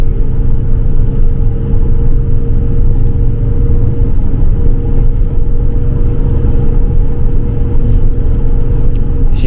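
Steady road traffic rumble on a street in Salmiya, Kuwait, as a public transport bus drives past, a continuous low engine drone and tyre noise filling the whole stretch without any talk.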